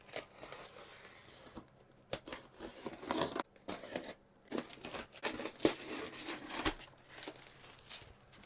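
A guitar shipping box being opened, with cardboard and styrofoam packing tearing, crinkling and scraping up close in irregular bursts and pauses, quiet overall with no talking.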